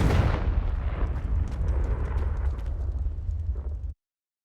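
A fiery Confringo spell explosion in the video game Hogwarts Legacy, one loud roaring blast that rumbles steadily for about four seconds before cutting off abruptly, with no voices over it.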